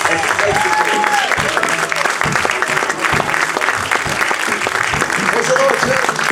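Church congregation applauding with a sustained, dense hand clap throughout, loud and close, with some voices and cheers mixed into the clapping.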